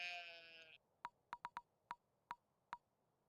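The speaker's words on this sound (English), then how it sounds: "It's a sheep, I guess, technically." In the Stardew Valley video game, a bright sheep bleat plays briefly at the start, followed by a series of short, evenly pitched game blips spaced irregularly, quiet and clean with no talking.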